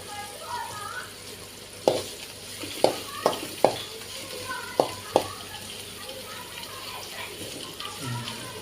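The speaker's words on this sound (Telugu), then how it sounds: "ఈ కొంచెం ఫ్రై అయ్యే వరకు వేసుకున్నామండి" Sliced onions and green chillies sizzle softly in a hot pan while a utensil clinks against it several times, with low talk in the background.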